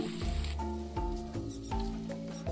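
Fish frying in hot oil, a steady crackling sizzle with small pops, close and continuous under a faint background hum.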